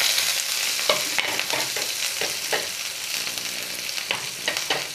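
Whole cumin seeds and green chillies crackle in a hot pan, a steady near sizzle punctuated by several sharp scraping stirs, with no talking.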